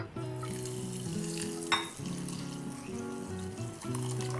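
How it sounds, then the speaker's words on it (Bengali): Milk poured onto hot fried vermicelli for kheer sets off a soft, steady sizzle and bubbling, with one brief sharper splash partway through and a quiet musical tone humming beneath it. "এখন আমরা এই সিমাইয়ের মধ্যেই দিয়ে দিচ্ছি দুধ"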